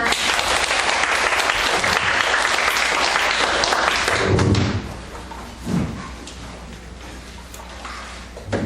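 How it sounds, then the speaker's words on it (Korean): Applause from a lecture audience welcoming a professor's talk, loud and dense for about four seconds before dropping away, followed by a soft thump and quieter room noise. "박수 부탁드립니다."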